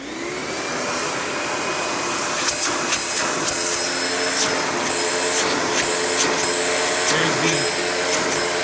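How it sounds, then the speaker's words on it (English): Panasonic Performance Plus MC-V5217 upright vacuum running as a steady loud motor drone, with several brief higher-pitched bursts from the suction relief valve opening and closing over the continuous hum. "the suction relief valve kicking in"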